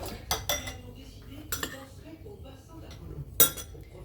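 Dishes and cutlery clink and rattle sharply in a kitchen as a spoon is fetched, several brief metallic and ceramic knocks scattered over a few seconds, close and fairly clear.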